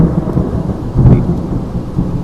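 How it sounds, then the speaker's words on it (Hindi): Steady rain falls with a low rumble of thunder swelling in the middle, a dense, continuous storm wash with no voices. "एक दिन बारिश हो रही थी।"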